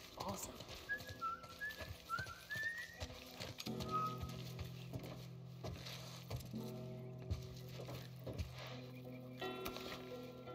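Melodic whistling by a character in The Last of Us, Pittsburgh chapter, with short rising notes in the first few seconds, over a busy backdrop of tapping, clatter and a steady low hum.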